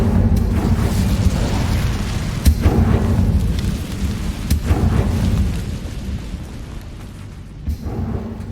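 Casting the Incendio fire spell in Hogwarts Legacy brings deep rumbling fiery bursts, with two sharper booms standing out over a continuous low roar that gradually fades.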